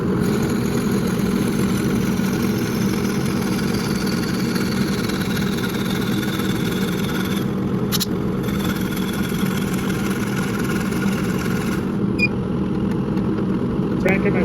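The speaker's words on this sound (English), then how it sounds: "Just turn on the dust collector." A woodworking dust collector runs beside a lathe-style 4-axis turning setup, giving a loud, steady, unbroken motor drone that holds from start to finish.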